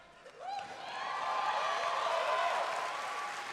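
Crowd at the Bethesda E3 2019 briefing bursts into steady applause mixed with yelling and whoops, rising after a moment and holding at a strong, even level.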